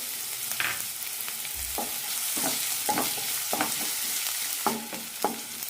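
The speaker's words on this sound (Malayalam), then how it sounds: "സവാള ചെറുതായൊന്ന് ചുവന്ന് കിട്ടണം അതുവരെ വഴറ്റാം" Small onion being sautéed in a tablespoon of oil in a pan, a steady close sizzle with repeated scraping stirs of a spatula breaking through at an uneven rhythm, no voices.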